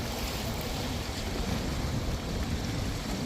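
A pilot boat runs across open sea off the coast of Ireland, a constant rushing wash of engine and water mixed with buffeting wind noise on the microphone, with no voices.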